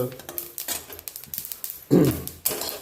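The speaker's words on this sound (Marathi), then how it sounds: "आपली ती तीळ ती तडतडायला आली म्हणजे ती तीळ आता भाजली" Sesame seeds roast in a pan on the gas, giving off quick, irregular crackles and pops, with someone talking over them and a couple of louder clatters.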